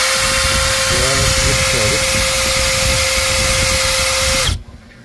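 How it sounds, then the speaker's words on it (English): A power drill with a small bit whines at a steady pitch, grinding loudly and bogging slightly as it bores out metal ball joint rivets on a 1999–2002 Chevrolet Silverado 1500, then cuts off abruptly near the end. "So you want to drill those out"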